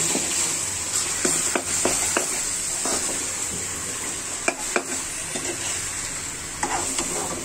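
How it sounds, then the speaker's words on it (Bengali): Chicken and pointed gourd with spices stirred in a pan, a steady sizzle of frying under scattered scraping clinks of the spoon against the metal, close and fairly loud throughout. "নেড়ে দিব মশলার সাথে মাংস আর পটল সবগুলো।"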